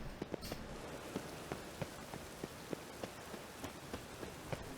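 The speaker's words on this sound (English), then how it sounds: "Rain makes the city even more dreary." Rain falls on a city in the video game The Witcher 3, heard as a quiet, steady patter. Sharper drips land on surfaces at irregular moments, and no one speaks over it.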